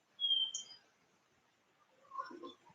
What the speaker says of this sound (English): listening to the sounds of everything, nature around me, the birds and the crickets